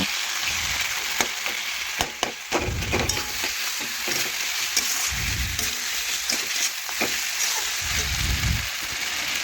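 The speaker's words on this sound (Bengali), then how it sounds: "মশলার সাথে মাছের মাথাও একটু কষে নেব" Fish head frying and being stirred with spices in a pan, a steady close sizzle broken by repeated scraping strokes and low thumps of the spatula, with no talking.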